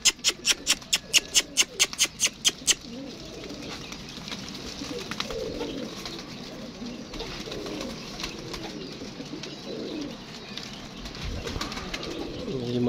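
Pigeons feeding on grain, with soft low cooing and rustling spread through the scene after a quick burst of rapid clicking at the start, fairly faint and without talk.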